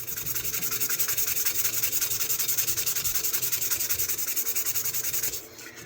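A knife blade being sanded by hand with fine grit paper, moving from coarser to 1,000 grit: a steady, close rhythmic rubbing of even strokes that runs throughout and eases off at the very end.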